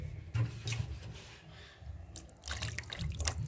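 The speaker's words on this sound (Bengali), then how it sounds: "এবার একটু জল দিয়ে দেবো।" Water poured into a pan of fried masala for a tengra fish curry, a gurgling splashy stream in two bursts with a brief pause between, close and fairly loud, no speech.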